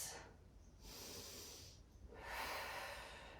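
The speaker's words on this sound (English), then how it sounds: "I want you to breathe for another 2 breaths" Slow, deep yoga breathing close to the mic: a long airy inhale, a pause, then another long breath, soft and hissing through the nose with no speech.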